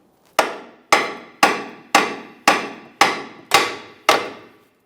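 Eight sharp metallic hammer taps strike a 2008-2017 Mitsubishi's front lower control arm at a steady rhythm, each ringing briefly before the next. The taps are close and loud, with no talking.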